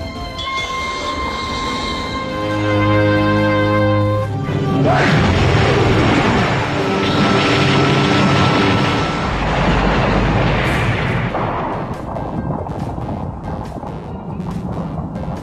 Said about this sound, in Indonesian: segera menggunakan kekuatannya dan menembakkan energi laser dari dalam mulutnya dan berhasil menghancurkan kota itu hanya dalam sekejap mata